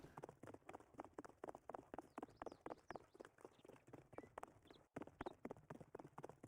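A horse's hooves clip-clop in a steady rapid rhythm in the Viking mod of 7 Days to Die, close and clear with a brief pause near the end.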